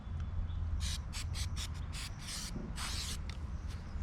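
A series of short hissing spray bursts of degreaser onto a bike, about nine, some quick and clipped, one longer, over a steady low background hum.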